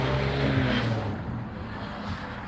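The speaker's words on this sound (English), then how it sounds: "cars passing by here and there" A car passes on a residential street near a home, a broad rushing engine and tire swell that peaks early and then fades into a steady low hum.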